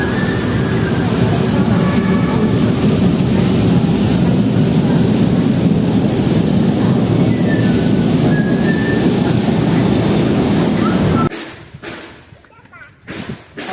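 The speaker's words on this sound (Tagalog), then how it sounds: "guys, look at the train." A train passes close by, a loud steady rumble of rolling wheels with faint squeals and a few brief horn-like tones, then cutting off abruptly near the end as quieter sounds and voices remain.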